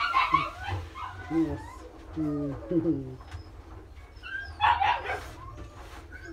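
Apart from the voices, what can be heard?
puppy whimpering and yipping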